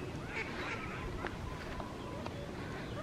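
Ducks at Hoomaluhia Botanical Garden giving a few scattered quacks and honks, moderately distant, over steady outdoor background noise.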